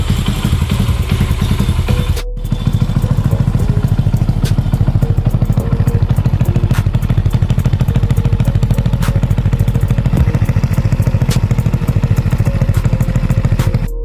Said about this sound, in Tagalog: Naka-idle rumble lang yan mga boss.